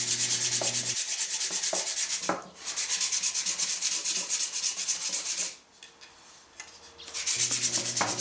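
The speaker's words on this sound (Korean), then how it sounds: "어느 정도 모양이 다듬어지면 굵은 사포를 이용하여 다듬습니다." Steady, rhythmic scraping of coarse sandpaper on a wooden ukulele neck, continuous rasping strokes with a couple of brief pauses, close and fairly loud.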